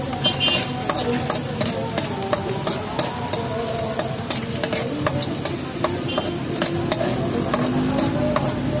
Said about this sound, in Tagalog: magigisa po ako ng bawang at saka sibuyas guys